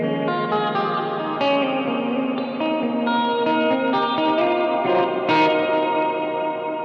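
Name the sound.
guitar played through Immerse Reverberator Mk II reverb pedal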